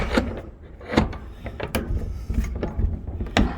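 A Dutch door on a chicken coop is handled and latched, giving a run of sharp metallic clunks and rattles at an uneven rhythm, close and fairly loud.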